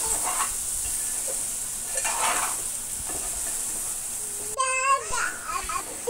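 Stuffed brinjals frying in a masala curry produce a soft, steady sizzle with occasional stirring scrapes, while children's voices and other chatter rise briefly near the end.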